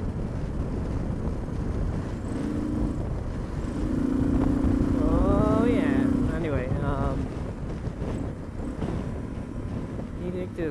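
A Suzuki DR650SE motorcycle fitted with an FCR-MX carburetor idles and revs steadily nearby, a low continuous engine drone with a brief rise in the middle, with wind buffeting the microphone.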